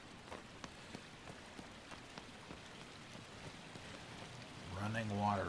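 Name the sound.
running water in video game Shadow of the Colossus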